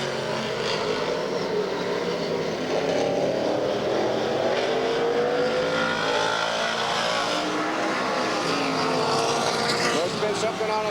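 Stock car engines roar around Ukiah Speedway in a 1985 race, a continuous loud drone with rising and falling pitch as cars pass, one car running louder with something on its muffler, under a race announcer's commentary.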